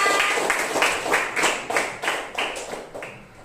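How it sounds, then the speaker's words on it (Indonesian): Students clap in a classroom during a grade 4 Islamic studies lesson, a group of hands beating in a steady rhythmic pattern of bursts that fades toward the end, with no talk over it. "Yang menegak tepuk tangan semuanya."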